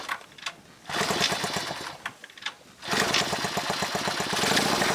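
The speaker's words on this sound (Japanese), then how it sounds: "プラグを掃除して再始動を試みると、" A Honda CB125K3 motorcycle engine restarts after its fouled spark plug is cleaned, sputtering and catching in rough bursts, dropping out briefly, then running on with a loud, steady rapid idle.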